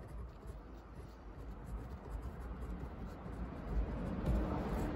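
A pen or pencil scratches steadily across paper while a first and last name are written during a quick love ritual, with a close, soft, continuous rasp and no talking.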